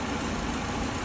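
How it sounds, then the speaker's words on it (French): Citroën Berlingo or Peugeot Partner B9 van engine idling after starting, a steady broadband hum with no change in level across the short moment. "J'ai démarré le véhicule"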